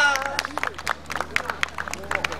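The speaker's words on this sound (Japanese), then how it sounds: "皆さん大きな拍手お願いいたしますどうぞ" An outdoor audience at a park event gives a short round of scattered, light hand clapping, fairly faint and sparse, with murmuring voices and a low background hum beneath.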